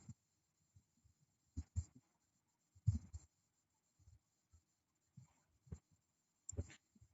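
A pen writes on a board in short, faint scratchy strokes separated by quiet gaps, with no talking.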